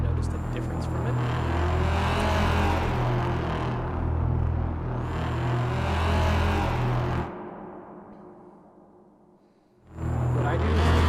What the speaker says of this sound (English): at the start, it's going to have a tire warming or burnout